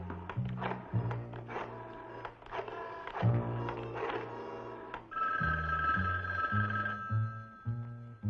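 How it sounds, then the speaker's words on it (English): An old-style telephone bell rings in repeated bursts with short pauses between them, moderately loud indoors, with a brief steady tone in the middle and no speech over it. "I have to answer the phone."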